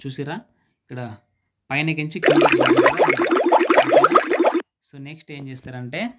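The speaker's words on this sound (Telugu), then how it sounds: "ఈ వాటర్ సౌండ్ ఒకటి బంద్ చేస్తా" A fountain animation app on an Android phone gives off a bubbly, splashing water sound for a couple of seconds, fairly loud, with someone talking just before and after it.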